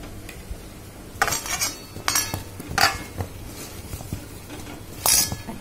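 Elephant foot yam being mixed with turmeric powder in a bowl, a few sharp clinks and scrapes of a utensil against the dish at irregular intervals over quiet background, close and fairly soft.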